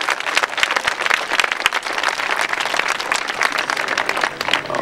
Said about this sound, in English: You ought to give the whole Board of Supervisors a big round of applause for the work.